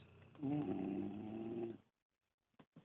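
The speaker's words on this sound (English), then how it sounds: "They're snoring again." One long, rumbling snore, close and fairly steady, breaks off into silence, followed by a couple of faint short sounds.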